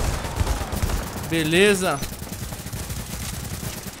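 A single 12-gauge shotgun blast from the video game The Division, loud and close, with someone talking casually in Portuguese before and after the shot.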